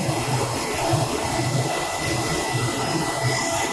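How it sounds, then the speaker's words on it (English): A Focus Alpha Max 6250 large-format printer prints a nozzle check, giving a steady, loud mechanical whir and hum with faint rhythmic pulsing, continuous throughout with no speech. "The printer starts to print."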